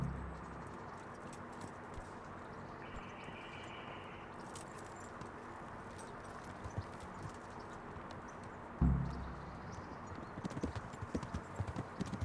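Horse hooves clip-clopping at a steady walk in the Kingdom Come: Deliverance video game, a continuous rhythmic patter with faint ambient noise, then a sudden louder thump near the end followed by busier hoof beats.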